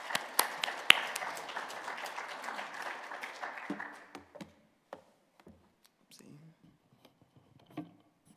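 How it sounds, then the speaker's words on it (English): Audience at a Sunday school gathering applauding to welcome a speaker, a few seconds of scattered clapping in a room that quickly thins out into isolated claps, faint taps and quiet murmuring. "let's just give a round of applause for David"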